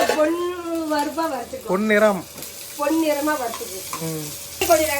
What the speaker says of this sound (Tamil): நல்லா வெங்காயம் போட்டு வறுத்துக்கோ